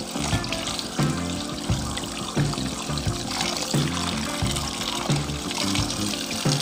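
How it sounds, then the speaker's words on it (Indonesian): Cassava roots are washed under running tap water, with steady close splashing and trickling broken by regular soft knocks as the roots are handled. "Untuk selanjutnya ini kita cuci dulu. Kita cuci bersih dulu."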